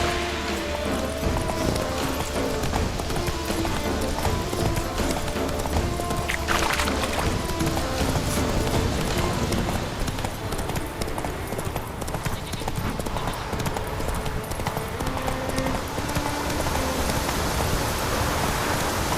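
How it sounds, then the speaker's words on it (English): Steady clip-clop of a galloping horse in The Witcher 3 video game, a continuous rhythmic hoofbeat pattern running throughout over a dense bed of game music and ambient noise. "Run, Roach"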